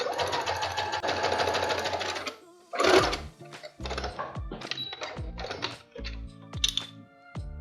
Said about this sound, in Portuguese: Eu vou aumentar aqui o ponto da minha máquina.